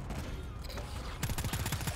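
Rapid machine gun fire in the horror shooter game GTFO, a dense burst of close, loud repeated shots that starts abruptly partway through after a quieter rumbling stretch.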